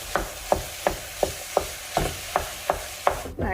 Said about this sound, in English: I'm gonna start breaking it up and sauteing.